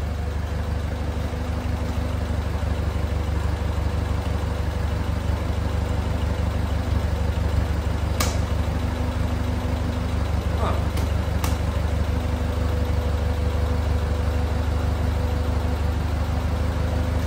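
An old Ford tractor engine idles steadily in a shop, a constant low rumble throughout, with a few brief sharp clicks partway through.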